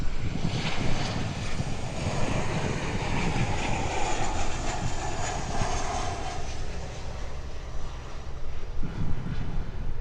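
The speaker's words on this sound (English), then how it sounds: "And Qantas touching down here at the Gold Coast." A Qantas airliner touches down at Gold Coast Airport, with a loud, steady, broad jet roar sustained throughout that eases slightly toward the end.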